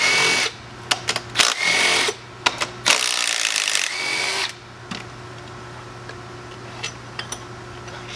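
A Milwaukee M12 Fuel cordless power tool spins out long intake manifold bolts on an engine, with several short whirring bursts and pauses between them, close and moderately loud with no speech.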